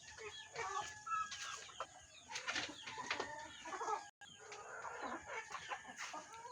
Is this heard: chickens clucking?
yes